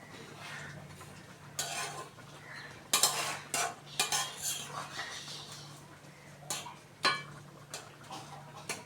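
A spoon scrapes and clinks against a cooking pot while garam masala and ghee are stirred in, giving soft intermittent metallic taps over a faint steady hum, with speech in the background.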